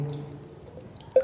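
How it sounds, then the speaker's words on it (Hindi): Water drips and splashes briefly while hands are washed for wudu ablution, a soft close trickle ending in a sharper single drip. "हाथ धो लेंगे"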